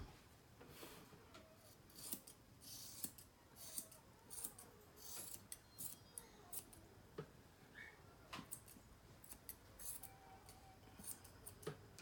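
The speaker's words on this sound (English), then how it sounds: "I'm holding my finger and thumb so we can trim all this and I don't cut the ear" Scissors trim a puppy's ear fur, producing soft, close snipping and rubbing clicks in an irregular series of short bursts, quiet and alone.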